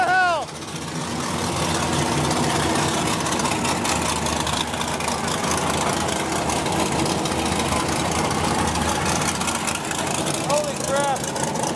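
The engine of a supercharged pro street car idles loudly and steadily at a Palm Beach cars and coffee meet. The low rumble stays constant from close by, and brief voices rise over it at the start and near the end.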